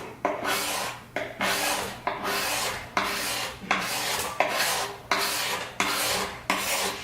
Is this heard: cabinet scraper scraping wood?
yes